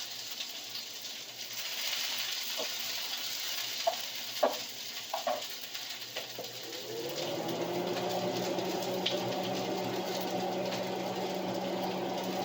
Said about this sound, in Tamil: வெங்காயம் போட்டு அது தாளிஞ்சு வர்ற கட்டத்தில்